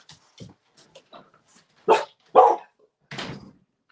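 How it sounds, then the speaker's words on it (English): Pet dog barking indoors, a handful of short yips followed by three louder close barks, alone without talk. "Jan, I bet your dog's ears really perked up now with my dog barking too"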